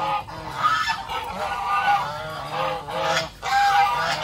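A flock of breeder geese honks loudly and close, with several overlapping bursts of calls and brief pauses between them.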